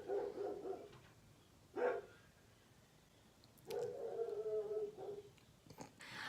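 A pet dog named Gus barks and whimpers indoors in short separated bursts: a yelp early on, a sharp bark near two seconds, then a longer run of whiny barking and whimpers before trailing off.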